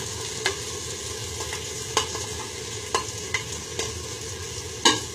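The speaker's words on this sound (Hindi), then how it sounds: "अब मैं इसमें तो केला डालूंगा।" Banana pieces go into a cooking pot and are stirred. A steady sizzle runs throughout, with spoon scrapes and taps at regular intervals about every second, close and clear with no talking.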